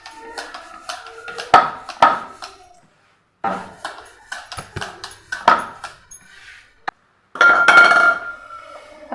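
Rolled rice dough being cut into rounds for pani puri, giving sharp, close tapping and cutting knocks in irregular clusters separated by brief silences.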